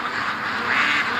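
Agitated homestead ducks quack together in a brief, loud, unbroken chorus close at hand, with no voices over it.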